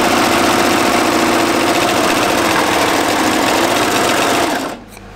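Serger overlock machine stitching knit fabric for a jumpsuit, a loud, fast, steady mechanical whir running continuously up close for several seconds before abruptly stopping.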